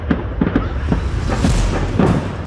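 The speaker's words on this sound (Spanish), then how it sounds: "Las ráfagas de disparos parecían interminables." Bursts of gunfire crackle during armed gang clashes over illegal mining, rapid sharp reports repeating in quick volleys against a noisy outdoor background.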